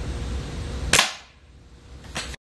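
A gun fires a single loud shot into layered targets at a test range, a sharp close crack followed by a fading tail and a second, softer burst just after.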